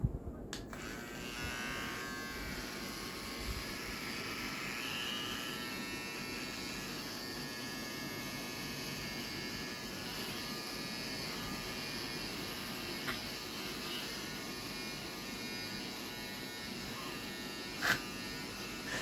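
An electric hair clipper buzzes steadily while cutting a boy's hair, a continuous faint hum with small knocks and clicks, without speech.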